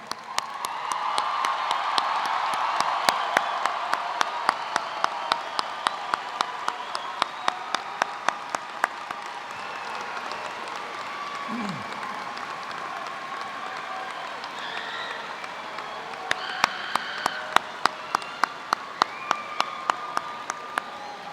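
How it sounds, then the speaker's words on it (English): Audience at a Hamilton High School 2018 commencement applauds the graduating class of 2018, a sustained patter of many hands that swells early, then thins to scattered sharp claps, heard from across a large hall. "Another round of applause for the class of 2018"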